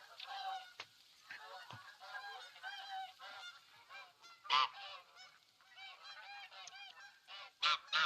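A large flock of bean geese in a video game calls continuously, overlapping honks and cackles layered thickly with a few louder, nearer honks standing out above the steady chorus.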